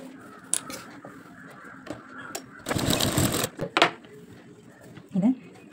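Sewing machine stitching the lining of a blouse, one loud continuous run of stitching in the middle between short mechanical clicks, with someone talking throughout.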